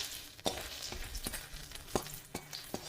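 Chopped ginger and garlic sizzle in a pan with chicken for dry chicken, a continuous close frying hiss punctuated by several sharp knocks of a stirring spoon.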